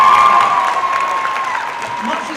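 Gala audience for a Save the Children centenary event cheering and applauding, a steady dense wash of clapping and voices that stays loud throughout, with a sustained tone running beneath the first half.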